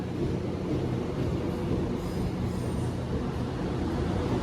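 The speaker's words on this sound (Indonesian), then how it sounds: "Kereta api Pramek tujuannya ke stasiun Kutoarjo teman-teman, termasuk kereta lokal ya, berangkat di depannya Fajar Utama Jogja." A Pramek local train bound for Kutoarjo pulls out of a Jogja station, a steady, loud rumble of wheels and cars rolling past with faint high squeals.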